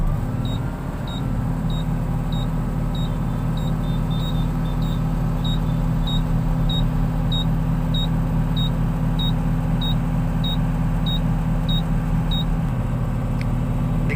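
A Mahindra Blazo BS4 truck's diesel engine idles steadily, a loud continuous low rumble with a faint repeating electronic beep from the cab throughout.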